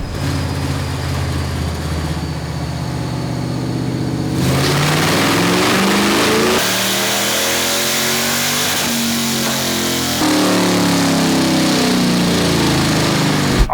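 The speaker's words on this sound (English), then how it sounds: "we just made a pull with open headers" A Godzilla engine roars through a dyno pull with open headers, running loud and raw as it climbs in pitch through several rising sweeps, close and harsh with no talking.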